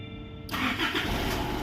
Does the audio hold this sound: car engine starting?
yes